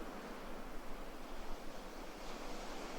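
Ocean surf washes ashore at dawn on a Bali beach, a soft continuous hiss of breaking waves heard from a distance, steady and even with no voices.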